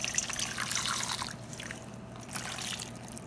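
Warm water is poured in a steady, fairly close stream to soak an ingredient while preparing Antiguan ducana, the splashing softening after about a second and trailing on quietly.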